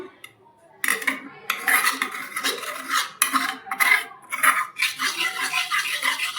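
Metal tongs grip and scrape against a hot pot holding an aloe vera body oil with rose water, giving loud, close clattering and rasping metal-on-metal contact in repeated bursts after a brief quiet start.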